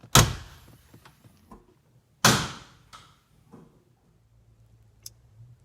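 A kit car door is opened by pulling the passenger-side manual release, with two sharp clunks a couple of seconds apart, each followed by fainter mechanical clicks and rattles in a quiet garage.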